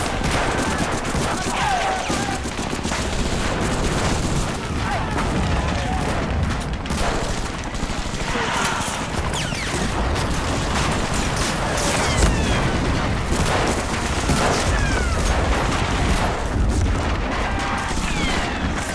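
Continuous loud gunfire with bursts of machine-gun fire and booms in the Medal of Honor Frontline video game, dense and sustained, with brief shouted voices mixed in.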